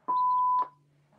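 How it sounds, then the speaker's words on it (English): A single clean electronic beep, a steady tone lasting about half a second, sharp and clear against near silence. "Is that a beep on your end?"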